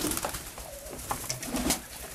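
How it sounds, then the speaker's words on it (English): Pigeons cooing inside a hen loft holding female and young birds, soft repeated coos close by with a few light rustles, no talking. "first loft here is the hen loft. This one, like the name states, has all female birds"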